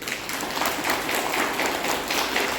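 Audience applause during a talk on controlling sugar, a continuous dense patter of clapping at steady volume filling the whole moment.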